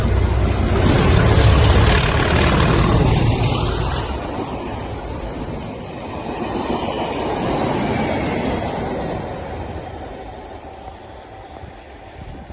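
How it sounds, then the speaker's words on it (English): A Class 37 diesel test train rumbles past, its loud, heavy roar peaking early and then receding into a softer, lingering clatter and hiss that fades away. "Trains with Nathan sent this clip in of a Class 37 test train."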